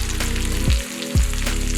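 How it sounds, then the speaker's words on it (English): Trout fillets sizzle and crackle loudly in a hot frying pan, a dense continuous fry with two brief dips where the oil quiets before surging back. "we're finally ready to drop our fish into the frying pan"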